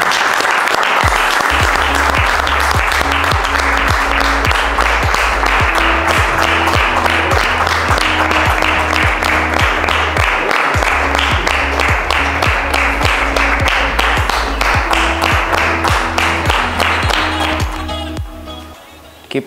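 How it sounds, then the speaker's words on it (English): Sustained audience applause at a Toastmasters club meeting in Rwanda, a dense wash of clapping that runs steadily for most of the stretch with music or tones underneath, then thins and fades near the end. "A round of applause as they come on stage."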